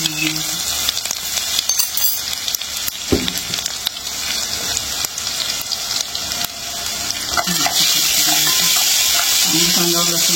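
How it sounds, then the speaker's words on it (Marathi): Garlic with mustard seeds, cumin and asafoetida sizzles in hot oil for a tempering, a loud continuous crackling hiss close up that swells toward the end, with no talking. "आणि लसूण. फक्त लसणाची फोडणी."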